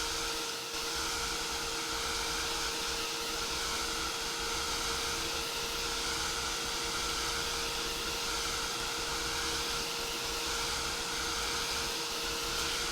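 Heat tool blowing steadily to dry Distress Oxide ink, a continuous close whooshing drone with a faint whine, unchanging throughout.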